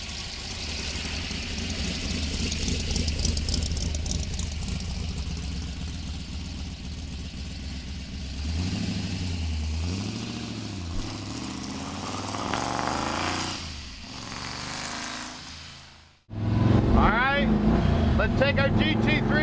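A 1965 Ford Mustang GT350 R recreation idles with a low, lumpy rumble, then revs in several rising and falling swells, cuts out briefly, and fires back up loud and close, with someone talking over parts of it.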